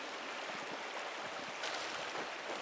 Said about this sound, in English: The waterfall must flow down from the snowmelt in the mountains above the abbey.